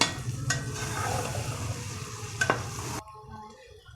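Shredded cabbage stirred through spiced oil in a hot pan, a steady close sizzle with scraping stirs and a sharp clatter near the end before it drops to quiet.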